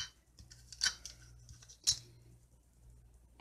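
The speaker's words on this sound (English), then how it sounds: "just take your scissors and just above where it ends," Scissors snip through paper in a quiet room, two crisp distinct clips about a second apart, close and clear over a low steady hum.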